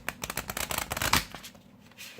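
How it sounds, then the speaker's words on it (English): A deck of Romance Angel oracle cards shuffled in quick, papery riffling bursts that build to a dense flurry, then trail off into near silence, with no voices. "next I'm going to pull a Romance Angel Oracle card from Dorian Virtue"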